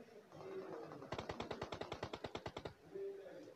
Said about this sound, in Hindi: फालतू में गोलियां चलाओ।